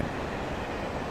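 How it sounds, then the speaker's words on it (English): A train in the video game Alan Wake gives off a steady, dense rumble, a brief continuous roar with no distinct horn blasts standing out. "I hear horns and a train."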